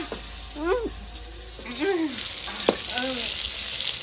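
Fish sizzles steadily in hot mustard oil with a constant crackling hiss while a voice talks intermittently over it.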